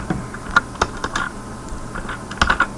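Keys clack on a computer keyboard as C loop code is typed, a sparse run of separate clicks with short pauses between them, close and fairly quiet, with no talking.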